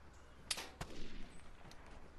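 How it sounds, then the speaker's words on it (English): Sniper fire in the multiplayer shooter Vigor, two sharp distant cracks about a third of a second apart, then a faint tail over quiet game ambience. "Getting sniped from really far away, he missed completely."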